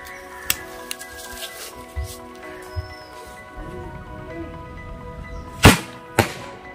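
Paper sound crackers set off outdoors at a pyro park: a quiet stretch with faint knocks, then one sharp, loud bang followed half a second later by a shorter, weaker burst.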